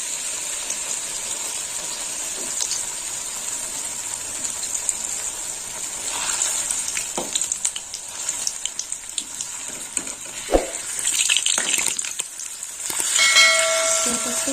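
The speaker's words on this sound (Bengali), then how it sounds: "বড়াটা ভেজে নেব" Fritters (bora) frying in hot oil, with a continuous bright sizzle throughout, occasional clinks and sharper pops, growing busier near the end; no talking.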